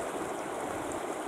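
Water rushes steadily through a dug channel between two lakes, a dense continuous gurgling flow close by with no voices.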